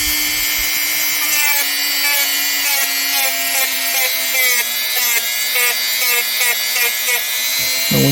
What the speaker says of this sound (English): your sandpaper, it doesn't last because you're doing it dry, obviously, but it works.